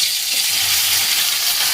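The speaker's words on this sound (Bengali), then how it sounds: "তেল দেওয়ার পরে আমি যে মোমোগুলো আছে এই মোমোগুলোকে আমি সব দিয়ে দেব" Veg momos fry in hot oil with a steady, dense sizzle that stays loud and even throughout, with no voices over it.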